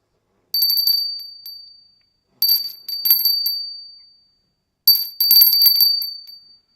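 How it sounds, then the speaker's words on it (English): A small meditation bell rings three times, each strike a bright, high, clear tone that rings out and decays slowly before the next, in a quiet room. "I will ring the bell 3 times"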